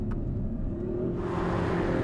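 Audi RS5 Competition coupé's V6 engine hums steadily from inside the car, then rises in a smooth revving surge partway through, loud and close with no talk over it.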